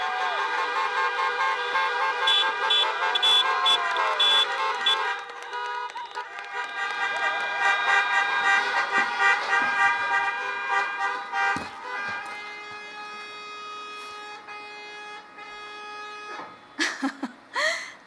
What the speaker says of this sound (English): Thank you for all the honking